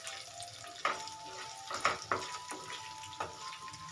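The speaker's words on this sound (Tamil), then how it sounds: "அதையும் சேர்த்து எல்லாத்தையும் நல்லா முழுசாக வந்து வதக்கி எடுத்துக்கோங்க" Green chillies, garlic and ginger sautéed in a pan, with a quiet sizzle and several sharp scraping stirs at irregular intervals, no talk.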